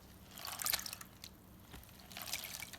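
Water sloshes and trickles in a gold pan as it is dipped and tipped, giving soft, close splashes in two brief bursts with quieter dripping between.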